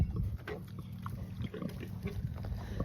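Newborn piglets from a first farm litter make soft, low, continuous grunting and snuffling close by, with faint wet rustling in the background.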